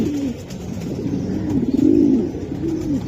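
Racing pigeons coo nearby in low, throaty, rolling calls that rise and fall in several bursts over a soft background hum.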